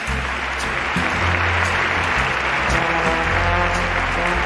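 An audience at the 2023 Premios Simón del Cine Aragonés awards ceremony claps steadily and loudly for several seconds, with dense, unbroken applause and no talk.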